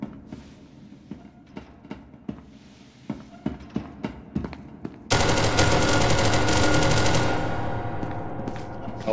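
Gunfire in an SCP video game: a run of single sharp shots at a steady beat, then a sudden dense roar of continuous noise that slowly fades, with no talk.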